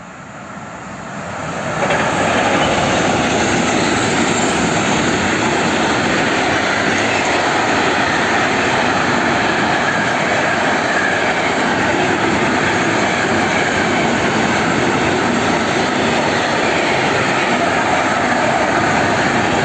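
An E186 electric locomotive hauls a PCC Intermodal container freight train past at Kraski, a loud, steady roar that swells in over the first two seconds and then holds for the rest of the pass.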